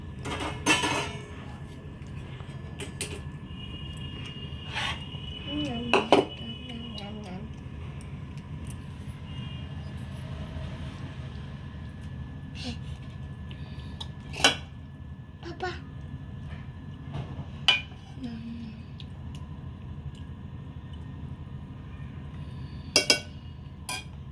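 A metal spoon scrapes and clinks against a pot as mushroom masala is mixed into cooked rice, with sporadic sharp clanks over a low steady background hum.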